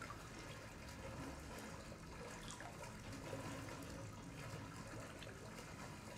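Sewer water in the video game Resident Evil 7, a steady faint rushing and trickling of liquid, continuous and alone.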